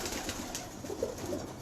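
Pigeons at a breeder's loft coo softly in low, murmuring bursts against a steady airy background, fairly faint and with no voices.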